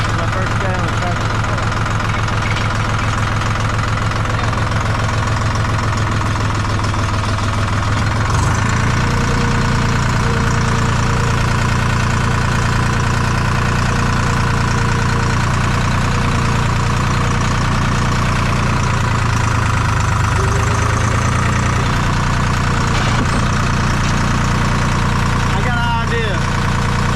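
A tractor engine idles and runs steadily close by, a continuous low rumble with a slight knock that rises briefly in load partway through; people talk over it.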